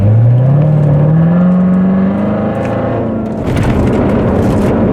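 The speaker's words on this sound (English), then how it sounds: "Much more aggressive sounding exhaust" A 2016 Corvette Z06 engine revs up hard in sport mode, its throaty exhaust climbing in pitch, then settling into a rough, rumbling idle with crackles.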